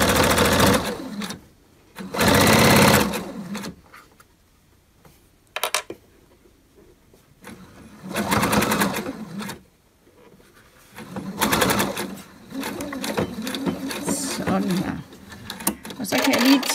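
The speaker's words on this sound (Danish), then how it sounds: "Og så syr jeg her med en centimeter sømrum." A sewing machine stitches ribbing onto homemade trousers with a one-centimetre seam allowance, running in several short and longer bursts with quiet pauses between them.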